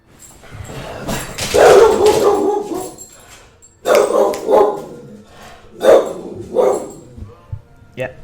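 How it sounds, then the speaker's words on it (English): A dog barks in several loud, close bursts, with clustered woofs and short yips spread across the stretch and quieter gaps between them. "Yeah, the dog's barking."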